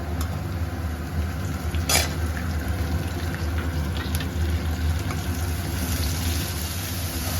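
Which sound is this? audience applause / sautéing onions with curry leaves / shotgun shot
sautéing onions with curry leaves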